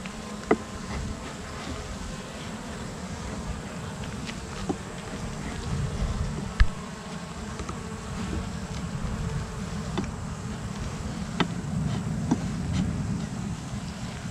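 Honey bees hum in a steady, close buzz around an opened hive during hive maintenance, with occasional soft knocks and handling sounds from frames.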